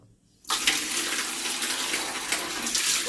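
Hot water poured or running during a bath at home, a steady loud rush that starts suddenly after a brief quiet and continues unbroken.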